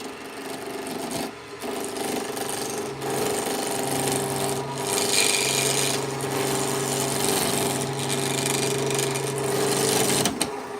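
A wood lathe spins at about 1,500 rpm while a small turning tool cuts the workpiece, giving a continuous close rasping scrape over a steady motor drone that swells and eases slightly.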